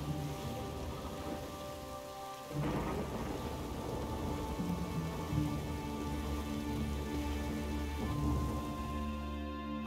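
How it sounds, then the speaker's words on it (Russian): Continuous video game rainfall patters over a low droning background, with a rolling rumble of thunder swelling in and lingering; no voices. "Снова дождь."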